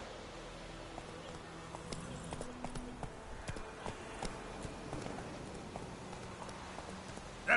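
Roach the horse galloping in The Witcher 3, a steady run of hoof clip-clops under game ambience and music, with a louder thump at the very end.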